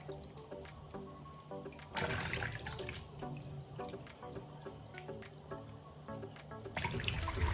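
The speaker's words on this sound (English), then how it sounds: "run the fish in plain water once again" Tap water runs steadily into a sink while a cleaned catfish is rinsed in plain water, with a louder gush of flow midway and again at the end, alongside faint handling clatter and no talk.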